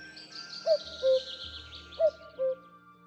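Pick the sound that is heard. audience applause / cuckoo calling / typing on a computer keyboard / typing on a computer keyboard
cuckoo calling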